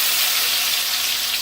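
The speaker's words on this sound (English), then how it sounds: "we'll come back in a moment and get a nice shot of those frying off" Methi and gram flour fritters sizzling in hot oil, a steady bright hiss with no talk over it.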